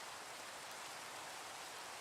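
Steady rain hisses in Minecraft, an even, dense wash of falling drops that holds unchanged throughout without any voices.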